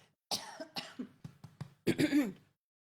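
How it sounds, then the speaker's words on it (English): A person clears their throat several times in a quick series of rough, throaty bursts, close and fairly loud, ending in a longer harsher rasp. "Excuse me, I need to clear my throat."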